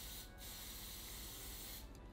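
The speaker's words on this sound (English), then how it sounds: "So I'm just gonna go ahead and spray the highlighter directly onto the sponge." Two brief puffs of highlighting mist sprayed onto a makeup sponge, soft close hisses at the start and end over a steady background hiss.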